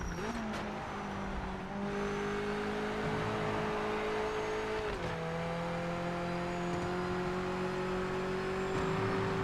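Race car engine held at full throttle in a sim racing game, a steady loud drone whose pitch climbs, dips briefly at a shift, then climbs again, with no talking over it.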